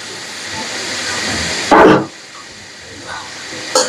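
Shoul or rui fish sizzles steadily while being sautéed in hot oil in a pan, a continuous close hiss with a louder, brief flare of spattering partway through.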